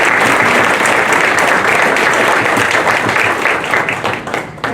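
Crowd at a senior games awards ceremony applauding volunteers, sustained loud clapping from many hands that thins out into scattered claps near the end.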